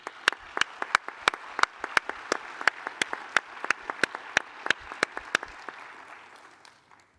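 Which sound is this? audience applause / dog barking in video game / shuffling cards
audience applause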